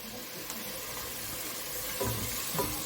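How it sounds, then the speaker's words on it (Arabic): Beef fat melting in a pan for tripe, stirred now and then, gives a steady soft sizzle with a couple of dull utensil knocks near the end, close by and with no voices. "هنقلب كل ده مع بعض وهنسيب السمينه كده لحد ايه ما تسيح"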